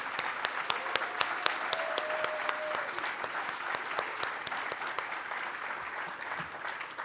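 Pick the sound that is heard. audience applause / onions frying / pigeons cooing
audience applause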